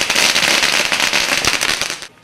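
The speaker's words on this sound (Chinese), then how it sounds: "鞭炮声响起，浩浩荡荡的车队正式出发" Firecrackers bursting at the start of a bicycle campaign rally, a loud rapid string of cracks and pops running continuously for about two seconds, then cutting off.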